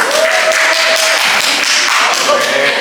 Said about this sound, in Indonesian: Yuk, berikan tepuk tangan untuk kelompok 2.